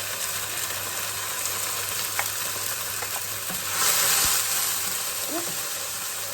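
A frying pan of tomato base sizzles and spits steadily, a close, continuous crackling hiss that swells briefly partway through, with faint clinks of a utensil, no talking.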